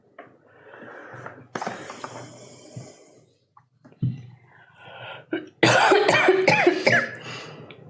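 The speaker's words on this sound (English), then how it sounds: "Almost like a cough." Someone coughs a few times in a dusty room, short harsh bursts mixed with throat noises, followed by a louder spell of close, rough coughing or clearing near the end.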